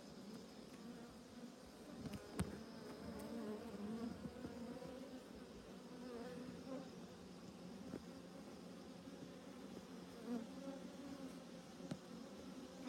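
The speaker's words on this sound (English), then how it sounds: "A lot of bees right here." Honey bees swarm and buzz around an open beehive during a hive inspection, a steady close droning hum with a few louder passes near the listener.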